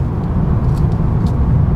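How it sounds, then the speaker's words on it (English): A 2020 Mercedes A35 AMG cruises along back roads in comfort mode, its low, steady engine and road drone a constant, fairly loud hum heard from inside the cabin with no talking. "So right now we're driving in comfort mode, just cruising along back roads."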